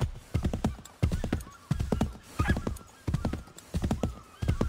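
Horse hooves clip-clop steadily in Assassin's Creed 3, a close, regular trotting rhythm in grouped beats with a brief whinny partway through.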